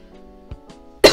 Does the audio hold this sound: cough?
yes